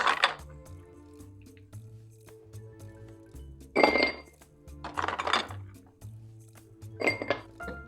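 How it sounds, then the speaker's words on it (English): Ice cubes clink and rattle into an old-fashioned glass in a rum cocktail setup, coming in three short bursts of glassy chinks over a low steady background hum. "We're going to add some more ice cubes to an old-fashioned glass."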